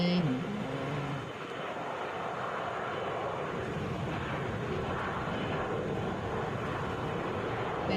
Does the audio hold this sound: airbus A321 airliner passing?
yes